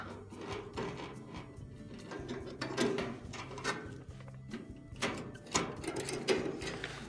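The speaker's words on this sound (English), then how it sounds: "you'll first loosen the gas tube nut that is going up to the burners themselves with a crescent wrench" A crescent wrench loosens the gas tube nut on a Frigidaire oven's pressure regulator, giving faint, close metallic clicks and scrapes in an irregular rhythm.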